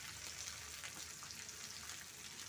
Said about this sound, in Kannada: ಸ್ವಲ್ಪ ಫ್ರೈ ಆಗಲಿ, ಬೆಳ್ಳುಳ್ಳಿ ಸೇರಿಸ್ಕೊಳ್ಳೋಣ